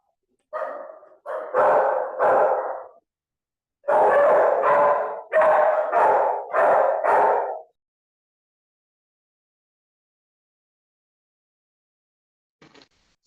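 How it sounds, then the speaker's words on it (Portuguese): A dog barks repeatedly and loudly, a short burst of barks followed by a longer run of sharp barks after a brief pause, then a faint distant sound near the end. "Eu acho que o cachorro latiu"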